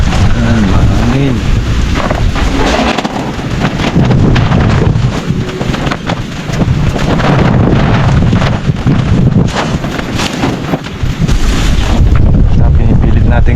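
Strong wind blasting outdoors at a calamansi farm, a loud continuous roar buffeting the microphone with gusty surges throughout, with voices faintly underneath.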